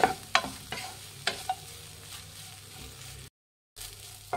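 Carrot rice being stirred in a pan, with a few soft scrapes and light sizzling from the hot pan, close up and fairly quiet, broken by a short silent gap.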